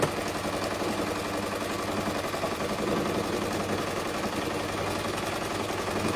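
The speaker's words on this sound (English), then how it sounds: "then you're going to go ahead and sew the dart" A sewing machine stitches a waist dart in fabric, its motor running in a steady, fast mechanical whir with a faint rhythmic chatter of the needle, close and uninterrupted.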